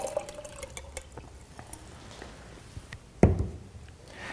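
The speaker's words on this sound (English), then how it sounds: "we're going to pour them into here" Soaked tomatoes and tap water are poured into a container in a kitchen, with soft drips and trickling and then one sharp splash and thud as the contents land, heard close up.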